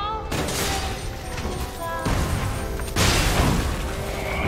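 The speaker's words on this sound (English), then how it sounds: "Throwing bombs at you." Bombs being thrown and bursting in the action game Lies of P, a dense string of loud blasts and pops layered over game music and clatter, with heavier hits near two and three seconds.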